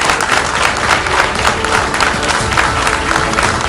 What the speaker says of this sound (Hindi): जोरदार तालियों के साथ हम चाहेंगे कि आप इस शानदार सार्थक चौपाल का स्वागत करें